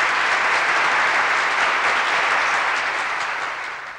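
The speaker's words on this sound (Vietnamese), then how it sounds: "Một tràng pháo tay để hoan hô 5 anh em siêu nhân và các bạn." A large audience at a children's music show applauds for a group of young performers dressed as five superheroes, a dense, steady roar of clapping that stays loud throughout and fades slightly at the end.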